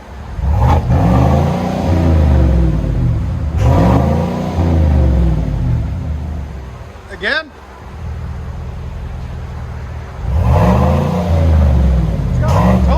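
Three loud revving bursts come from a 2019 GMC Sierra X31 5.3L V8 through a Flowmaster Super 10 dual exhaust, rumbling close by with a lower idle between them and a brief spoken word in the gap.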